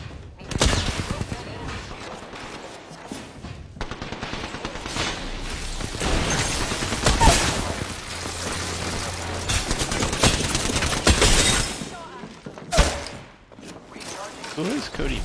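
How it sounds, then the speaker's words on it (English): Loud, continuous volleys of video game gunfire, clustered shots and booming impacts filling the whole stretch, with a voice speaking over the action. "Are just shooting at me."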